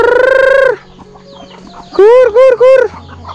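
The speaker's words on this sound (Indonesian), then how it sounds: "Ini ayam yang sakit yang kemarin." Chickens on a farm garden plot sound off loudly and close by, one long crowing call followed after a pause by three quick, strong clucks in a row.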